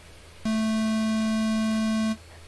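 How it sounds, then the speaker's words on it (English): A modular synthesizer in the game Eliza plays a steady, loud tone lasting under two seconds, starting and stopping abruptly, with no voices over it. "That's a sine wave."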